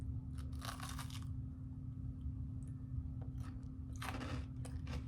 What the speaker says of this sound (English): Can you hear how crunchy these are?